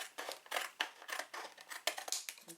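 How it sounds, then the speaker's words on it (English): Scissors snip through paper while a homemade Bible journaling mat is trimmed, giving a quick, even run of about a dozen crisp close cuts with short gaps between them. "I'm just going to use my scissors."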